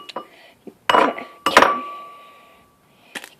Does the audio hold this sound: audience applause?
no